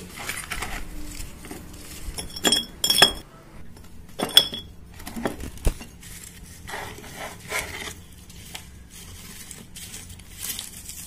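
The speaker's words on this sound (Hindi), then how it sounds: "मैं आधे भाग में कुछ कंकड़ पत्थर डालूंगी और कुछ लकड़ी के जले हुए टुकड़े और कुछ ये नारियल के छिलके" Pebbles, stones, burnt wood pieces and coconut husks dropped by hand into a container in scattered bursts of clinks, rattles and rubbing, some louder than others, with quiet gaps and no talking.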